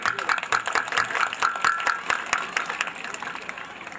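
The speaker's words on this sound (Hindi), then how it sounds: "तो तालियों से स्वागत होना चाहिए" An audience claps at a school annual function, a dense patter of hand claps that fades gradually toward the end, with a voice speaking over it.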